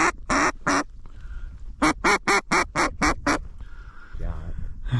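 Ducks quack close by in sharp repeated bursts, a quick volley of three, then a rapid run of seven or eight, with faint calls between, heard during a waterfowl hunt among snow geese and pintails.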